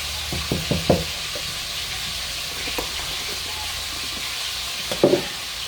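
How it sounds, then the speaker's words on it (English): Pork chop bake mixture is stirred in a pan, with a steady sizzling hiss and a few soft scraping and clinking stirs, close up, with no talking. "I'm going to stir all that well."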